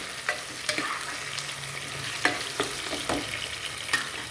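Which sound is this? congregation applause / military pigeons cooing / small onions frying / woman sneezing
small onions frying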